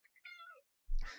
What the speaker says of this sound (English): Top tier cat noises.